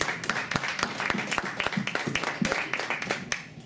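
An audience at a business talk in White Rock, British Columbia, breaks into lively applause, a fairly close patter of many clapping hands with a few sharper individual claps standing out.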